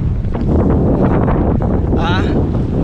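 A strong headwind blows against a cyclist riding a dirt road near Mirandola, Italy, producing loud continuous buffeting roar across the microphone, with a brief voice near the end.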